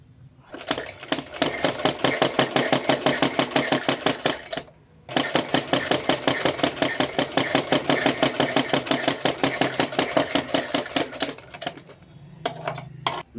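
A sewing machine stitches a blouse sleeve in loud, rapid, evenly spaced needle strokes running continuously, with a brief stop near the middle before resuming, then winding down to a few clicks at the end.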